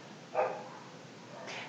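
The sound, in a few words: dogs barking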